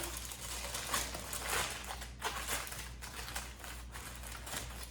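Aluminium foil is crumpled and shaped into a small makeshift pan in a hotel room, giving faint, irregular crinkling and crackling that runs steadily through the whole stretch, with no talking.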